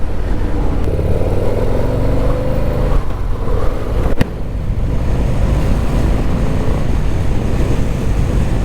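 A 2022 Harley-Davidson Low Rider S and a Dyna ride around town, giving a loud, steady engine drone with constant wind rush and a brief dip partway through.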